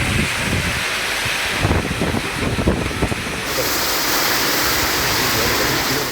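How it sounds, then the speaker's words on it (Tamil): Heavy rain with strong, gusty wind in the Rasipuram and Tiruchengode areas of Namakkal district, Tamil Nadu: a loud, close, continuous broadband roar of rain and wind, swelling and easing slightly, with no voices. "நாமக்கல் மாவட்டம் ராசிபுரம், திருச்செங்கோடு உள்ளிட்ட பல்வேறு பகுதிகளில் சூறை காற்றுடன் கனமழை பெய்தது"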